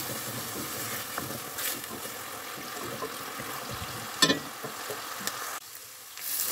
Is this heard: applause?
no